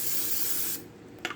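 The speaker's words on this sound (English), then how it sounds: "spray these with non-stick cooking spray" Non-stick cooking spray hisses from an aerosol can onto taco salad shell containers in one short loud burst, followed by a faint quiet stretch and a small clack.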